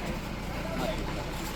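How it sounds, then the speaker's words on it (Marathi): A small tempo truck pulls up near a village gathering for a goat-feast meal, its steady engine rumble and road noise continuous and fairly close, with people talking over it. "हे बघा टेम्पो आला"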